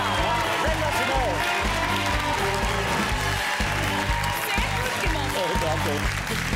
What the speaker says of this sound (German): Jetzt brauche ich noch einen kleinen Applaus.